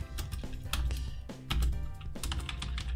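Someone types code on a computer keyboard nearby, with quick irregular clicks and occasional heavier key strikes running through the whole stretch, and no speech.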